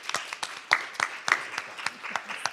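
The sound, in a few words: audience clapping for candidates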